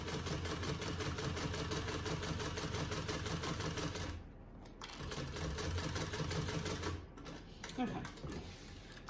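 A sewing machine stitching a bag runs in a fast steady rhythmic whir, stops briefly, then starts again, close and moderately loud with a person speaking quietly around it.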